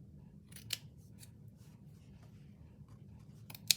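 Scissors cut out paper for a hard journal cover in a quiet room: a few crisp, close snips, with sharp clicks near the start and end and soft paper rustling between them.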